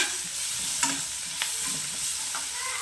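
A spoon stirs pumpkin curry with onions and turmeric in a pan, giving soft steady scraping over a gentle sizzle, with a couple of sharper clicks from the spoon against the pan.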